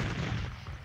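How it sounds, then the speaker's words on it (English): A cannon fired during the siege of the Alamo, a single short, deep boom that fades quickly. "Its commander, William Barrett Travis, answered with a cannon shot."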